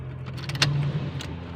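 A relay clicking in a Honda Civic ESi that had suddenly died: a few sharp, close clicks in quick succession, then one more a moment later, over a steady low hum.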